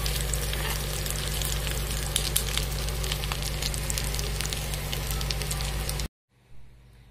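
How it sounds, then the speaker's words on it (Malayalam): Prawn vada bubble and crackle in hot oil, a close, steady sizzle with scattered pops lasting about six seconds before cutting abruptly to near silence. "ഇത് നന്നായിട്ട് പൊരിഞ്ഞ് വരുന്നുണ്ട്."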